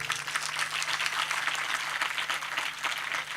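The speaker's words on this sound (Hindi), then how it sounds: "चाहते हो तो जरा ताली मारो।" An audience at a spiritual initiation camp claps on request: a steady patter of many hands slightly distant in the hall, moderately quiet and continuous, with a low hum underneath and no speech.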